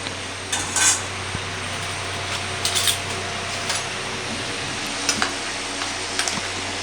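A dosakai (cucumber) roti pachadi chutney is mixed by hand in a bowl, giving soft wet stirring and squelching with a few light clinks against the vessel, close and steady with no talking.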